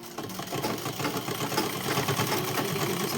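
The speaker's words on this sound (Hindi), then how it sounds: "मशीन से ही स्टिच करती हूँ" A sewing machine runs a double line of stitching along the front neckline of a dress. It hums in a steady, rapid needle rhythm, close and unbroken, with no voices.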